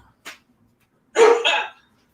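A dog barks twice, a short faint yip followed by a louder, fuller bark-like burst, both close by with no talking in between.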